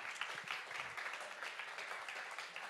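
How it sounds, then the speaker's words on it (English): An audience at a tech meetup applauds, a steady patter of many hands clapping, fairly faint and distant, throughout. "he deserves an applause"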